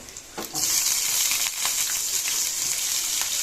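Potatoes and onion frying in a pan, a steady close hiss and sizzle with a few stirring scrapes, louder after a brief quieter start.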